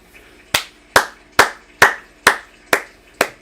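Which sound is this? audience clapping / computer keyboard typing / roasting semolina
audience clapping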